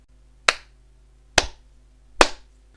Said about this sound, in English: The scientist clapped his hands.